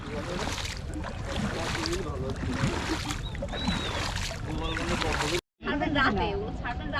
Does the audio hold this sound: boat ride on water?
yes